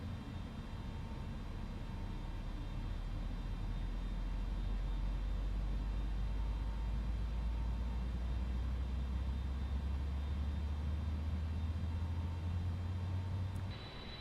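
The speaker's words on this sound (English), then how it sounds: "we're going to start engine number 1." Engine number 1 of an Airbus A310 in Microsoft Flight Simulator spools up, heard as a steady low rumble and whine that builds and holds, then cuts off near the end.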